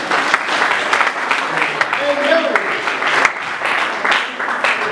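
A church congregation applauds and cheers to acclaim the Lord, with dense, sustained clapping throughout and voices shouting and talking over it, close and loud.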